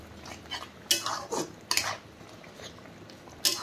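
A spoon stirs green chillies and chopped ginger into sukto made with jute leaves in a metal pot, with several distinct clinking scrapes spaced out over a quiet background.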